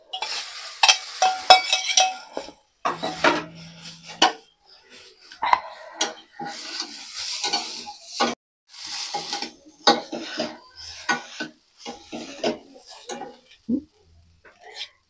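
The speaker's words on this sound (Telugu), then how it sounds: "ఒకసారి కొబ్బరి వేసి కలిపేద్దాం." Beetroot and coconut being stirred and fried in a pan, close, loud bursts of scraping and sizzling separated by short silences, with a spatula clinking against the pan.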